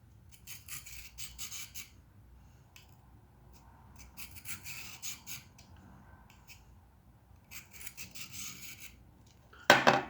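Knife drawn repeatedly across a sharpener, giving three bursts of raspy scraping strokes separated by pauses, close and fairly quiet, ending with a sharper, louder stroke.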